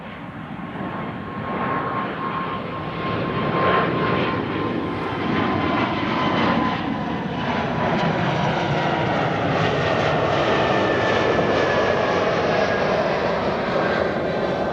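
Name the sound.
Embraer E195-E2 jet taking off at Amsterdam Schiphol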